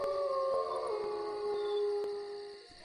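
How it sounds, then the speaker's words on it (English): A dog howls in the distance at night in open countryside, a long sustained wavering cry that slowly slides downward and fades near the end. "The sound of a dog in the distance."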